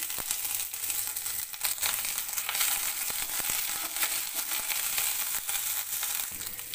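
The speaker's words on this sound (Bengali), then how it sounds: "তেলটা এখানে আমার গরম হয়ে গেছে, দিয়ে দিচ্ছি গোটা শুকনো লঙ্কা, 1/2 টিস্পুন জিরে গোটা" Whole dry red chillies, whole cumin and ginger paste frying in hot oil in a pan, giving a dense, crackling sizzle with frequent sharp pops and spatters throughout.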